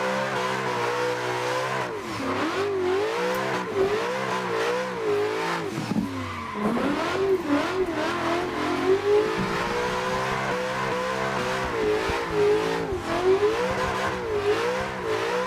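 Ford Mustang with a V6 tune revving hard and drifting at Brooklyn Park in Assetto Corsa, engine note rising and falling steadily with continuous tire squeal, loud and close throughout.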